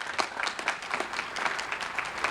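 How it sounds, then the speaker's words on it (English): Graduates at a commencement ceremony applaud themselves, a steady patter of many hands clapping at moderate distance, with no talk over it. "give yourselves an applause for that"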